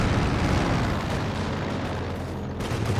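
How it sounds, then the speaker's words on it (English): Grenade explosion amid World War II combat in Company of Heroes 2, a dense, loud roar of blasts and rumbling low-end noise filling the whole stretch, with a brief dip near the end. "Ober's going for a slightly risky grenade"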